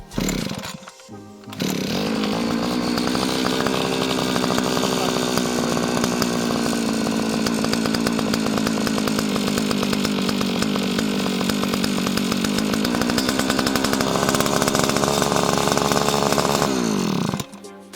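A Tatra Garden EA 200 petrol earth auger engine starts with a sharp burst, then runs loud and steady, its buzzing two-stroke drone rising slightly near the end before cutting off abruptly. No one speaks.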